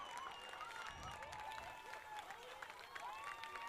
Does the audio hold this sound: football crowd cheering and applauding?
yes